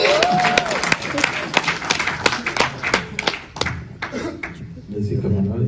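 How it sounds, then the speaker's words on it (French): An audience at a political party general assembly in Washington DC claps, with brisk uneven hand claps and taps that thin out and fade near the end while voices murmur. "On l'applaudit."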